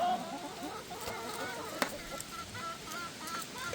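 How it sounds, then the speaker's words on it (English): A backyard flock of barred rock, speckled, Americana and olive egger chickens clucks and murmurs continuously in soft overlapping calls, with a brief sharp sound partway through, at moderate distance. "These are all friendly chickens."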